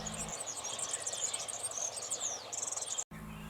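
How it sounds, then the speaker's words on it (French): A European serin sings in open countryside, a rapid high jingling trill of thin buzzy notes that carries steadily and moderately close for about three seconds. "le serin cygni,"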